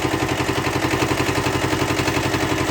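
A diesel engine freshly filled with semi-synthetic oil runs with a loud, close, rapid and even chugging beat over a steady mechanical drone, with no talking.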